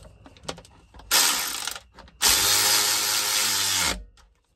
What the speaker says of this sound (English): Ratchet in here.